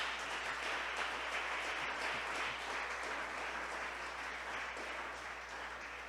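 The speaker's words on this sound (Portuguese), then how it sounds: "Aplaude a Jesus por isso." A church congregation applauds during a sermon on marriage, a steady, dense wash of clapping that holds at an even level throughout, with no clear voices on top.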